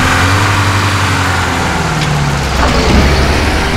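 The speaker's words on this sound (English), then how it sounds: "As Sasha explained, this is a 1986 Lada. Better ride than I thought." A 1986 Lada car drives with its engine running, giving a loud, steady low drone with a slight rise in pitch and a constant road rumble beneath it. No voices are heard.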